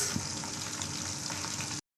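Chicken sizzles in a frying pan, a close, dense crackle of spitting oil that runs steadily for nearly two seconds before stopping abruptly.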